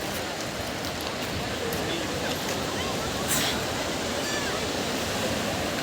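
Sea waves wash steadily onto Digha beach on the coast at evening, a continuous broadband roar with no clear breaks, heard close and loud throughout.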